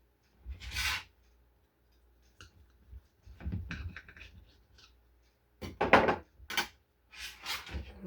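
Knife cutting into a freshly baked chicken pot pie, fresh from the oven: a few separate crusty scraping and crunching bursts with short pauses between them, close and fairly quiet, no talking.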